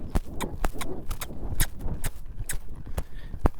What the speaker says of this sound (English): I want to lope her out and go somewhere